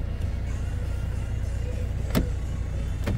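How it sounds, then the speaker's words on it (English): A car backing out at a frozen fishery in winter, its engine a steady low rumble throughout, with two brief sharp clicks or knocks near the end. "Oh, back out the car."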